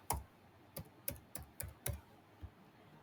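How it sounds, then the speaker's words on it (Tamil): Computer keyboard keys tapped while an email address and password are entered on a sign-in page: about seven crisp, separate clicks in an uneven rhythm, close and fairly quiet, with no talking. "இப்போ இதில் நீங்கள் கொடுத்த பாஸ்வேர்டையும் இமெயிலையும் இங்கே டைப் பண்ணி கொள்ளணும்"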